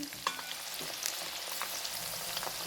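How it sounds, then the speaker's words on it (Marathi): Garlic cloves frying in oil for a homemade Diwali chivda, a quiet continuous sizzle with occasional small pops and crackles. "पाच सात गड्डे घेतले आहेत त्याच्या पाकळ्या करून तळून घ्यायच्या"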